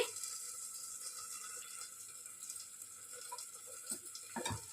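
Tap water runs steadily over fresh tomatoes being washed at a kitchen sink, a soft continuous splashing that stays fairly faint, with a few brief louder spatters near the end and no talking.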